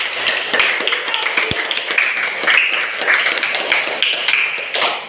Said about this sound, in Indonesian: Tepuk tangan buat Mbak Saren sama Mbak.